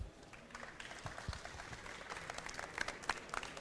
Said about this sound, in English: Please have an applause for Lynx